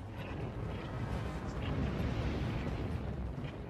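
Documentary sound effect of a solar coronal mass ejection explosion: a loud, deep, sustained roaring rumble that holds steady from start to finish.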